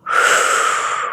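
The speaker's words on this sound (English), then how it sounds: "Inhale. And exhale." A single deep breath during a gentle prenatal yoga session, a smooth breathy exhale of about a second, close and clear with no talk over it.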